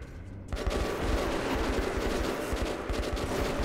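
Sustained automatic gunfire from Metro 2033 Redux bursts in after a brief quiet moment, a dense, loud, continuous rattle of rapid shots filling the rest of the stretch.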